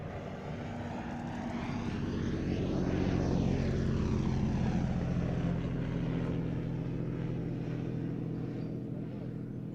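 A vintage fighter aircraft with a Rolls-Royce engine flies past at an air show: a steady propeller drone that swells as it passes overhead, with a sweeping pitch shift, loud and continuous.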